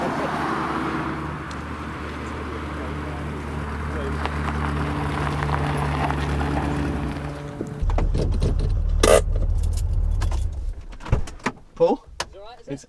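A modified Peugeot 205 GTI engine drones steadily from inside the car, then surges louder for a few seconds before dropping away into scattered clunks and knocks.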